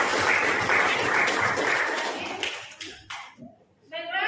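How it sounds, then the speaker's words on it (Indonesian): A group in a classroom claps in a brief burst of applause that dies away after about three seconds, followed by a few light taps and a short spoken voice. "tepuk tangan buat kita semua"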